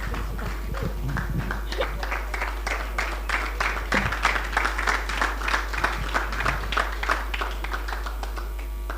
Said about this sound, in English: round of applause for Justice.